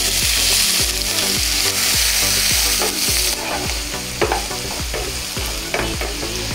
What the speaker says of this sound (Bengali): পেঁয়াজটা দিয়ে আমরা তেলের মধ্যে সুন্দর করে কষিয়ে নেব যতক্ষণ না পেঁয়াজটা লাল হয়ে আসছে